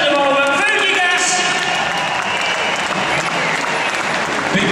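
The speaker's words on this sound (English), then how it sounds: "let's have an air big cheer for the man on the section at the moment, Fuji Gas!" Crowd applause and cheering for a rider at a motorcycle trials event, loud sustained clapping with shouts from a large audience throughout, with an announcer's voice heard talking over it.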